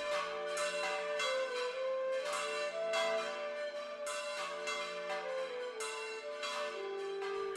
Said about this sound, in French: Joua alors le carillon, et 200 voix chantèrent en chœur.